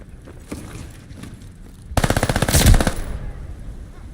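A submachine gun fires in a deathmatch video game with a loud, fast burst of rapid shots lasting about a second, over a steady background of game noise.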